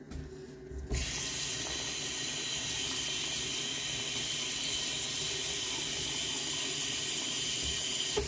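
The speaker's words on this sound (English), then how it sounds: "Here, just water, no soap." Tap water starts abruptly after a second of quiet and then runs in a steady, close, hissing stream into a sink for the rest of the clip, with no talking.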